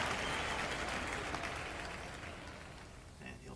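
Applause from a golf gallery in a PC golf game after a chip shot, a steady broadband wash of clapping that gradually fades toward the end.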